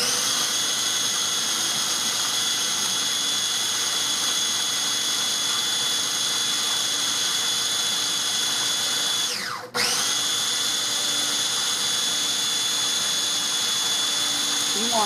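A small electric grinder or blender runs steadily, whirring as it pulverizes chipotle pepper and garlic into mayonnaise, loud and continuous with a brief dip near the end.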